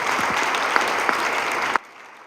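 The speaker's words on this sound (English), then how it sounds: "Give me a round of applause." A crowd at a community forum on synthetic drugs breaks into sustained, dense applause that stops abruptly, leaving a quiet room.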